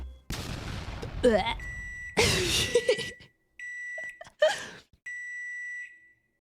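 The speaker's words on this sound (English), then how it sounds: "that beeping sound with a slight echo" Several sharp electronic microwave beeps ring out in separate bursts, each trailing a faint echo, mixed with clattering and a few vocal sounds.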